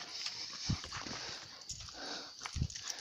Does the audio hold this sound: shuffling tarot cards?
no